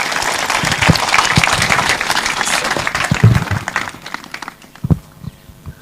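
An audience at Kenswed School in Kenya breaks into loud, sustained applause to welcome a speaker, dense clapping that thins out toward the end with a few scattered claps.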